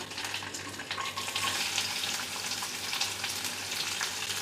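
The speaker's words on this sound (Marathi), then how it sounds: "इथे मी कढईमध्ये तेल तापून घेतलेलं आहे, त्यामध्ये आपण राई घालूया, जिरं, त्यानंतर कढीपत्ता, कांदा" Mustard seeds, cumin, curry leaves and onion fry in hot oil in a kadhai, giving a steady close sizzle with a faint crackle throughout, with no talking.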